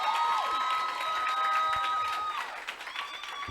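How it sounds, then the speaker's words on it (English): Room audience at a youth chat event clapping and cheering, with sustained whistles or whoops riding over a steady bed of applause that thins toward the end. "Let's give them a crazy round of applause."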